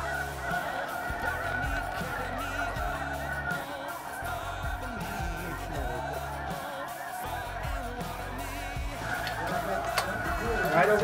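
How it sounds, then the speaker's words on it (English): A flock of snow geese honks steadily in the distance, a dense overlapping chorus, with a few hunters' voices murmuring nearby in an underground pit blind. "there is a few snow geese"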